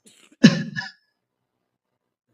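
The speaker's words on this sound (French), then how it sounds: "Je m'excuse car je tousse un peu" One short, sharp cough close by, followed by silence.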